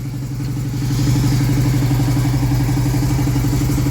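A Honda CD 175 motorcycle engine, a barn-find bike under repair and struggling on choke, runs steadily with a close, loud, even chugging idle that holds throughout, with no voices.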